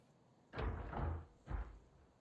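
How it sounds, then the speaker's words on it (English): A door opening with two dull thuds and rattles, the first longer and the second shorter, close and moderately loud in a quiet room. "The door opens."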